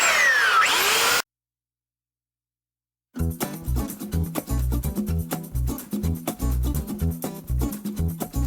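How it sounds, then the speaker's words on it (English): A power sander works paint off a wooden sign, first a short high whine, then silence, then loud, close, rhythmic buzzing and grinding as it moves back and forth. "We'll come back and we'll sand it off."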